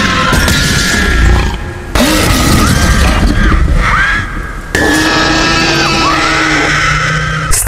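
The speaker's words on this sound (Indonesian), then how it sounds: "Seketika memecahkan kaca bagian mobil depan dengan kerasnya, membuat Lex berteriak histeris ketakutan." A T-Rex smashes through a car windshield in a film scene, with loud crashing glass and a girl's shrill screams rising over rumbling, chaotic noise in repeated surging bursts.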